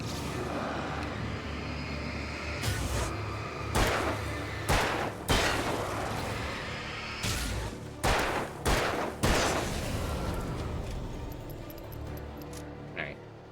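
Gunfire in Alan Wake comes as a series of sharp, loud shots in irregular bursts over steady game ambience, with a voice briefly speaking between them.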